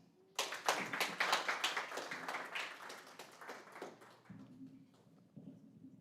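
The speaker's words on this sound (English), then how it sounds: "please give a round of applause for Mr." Audience applause for a speaker being introduced at an ecommerce community event, a burst of clapping that starts abruptly, stays fairly close and loud, then thins and fades after a few seconds.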